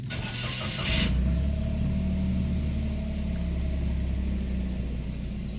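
A Toyota Wigo engine with a newly replaced ignition coil cranks and catches at about one second, then settles into a steady, even idle with a low droning hum.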